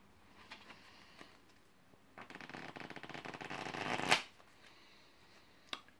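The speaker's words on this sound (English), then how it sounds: "I'm going to shuffle these cards, just so you can see they're in a very random order" A deck of playing cards is riffle-shuffled close by, a quick fluttering burst of cards that ends in a bridge snap, with soft handling taps before and after.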